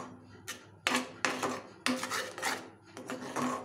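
A spoon scrapes through thick white chocolate compound fudge mixed with dry fruits in a pan over a low flame, making repeated rough stirring strokes in an uneven rhythm, close and clear with no voices.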